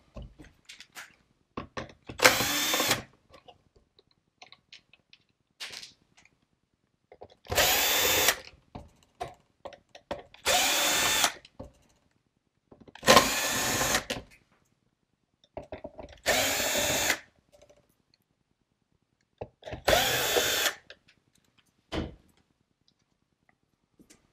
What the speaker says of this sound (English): The first step is to remove the 6 torque screws on the back of the instrument cluster that go around the outside.